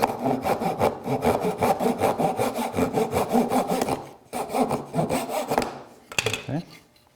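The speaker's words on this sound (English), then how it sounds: "if I cut through these first two, then they'll guide my saw for the next two" A hand saw cuts through the sides of a small wooden box in steady back-and-forth strokes, loud and close, with a short pause before a few final, uneven strokes.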